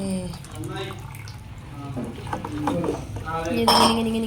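Homemade chocolate ice cream mixture stirred in a pot, with light scraping and clinking of a utensil against the metal, close by, while a person talks over it.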